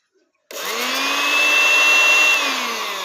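Electric juicer machine switched on after a brief silence, whirring at a steady high-pitched motor whine that holds constant and loud, close up, with no talking.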